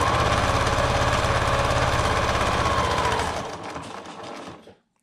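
A sewing machine zigzag-stitches over the edge of Gore-Tex fabric in a fast, steady mechanical chatter, close and loud, then slows and stops near the end.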